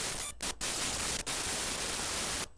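Harsh, bright static-like noise generated by converting raw data into audio, a dense hiss spanning the whole range with a few abrupt brief dropouts, loud and continuous.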